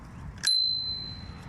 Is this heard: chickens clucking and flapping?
no